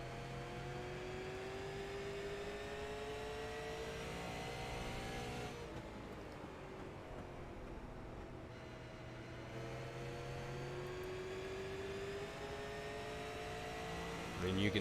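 A super late model race car is driven flat out around Richmond Raceway, its engine droning in a steady loud rising and falling howl that dips briefly mid-way as the throttle eases, with talk over the top.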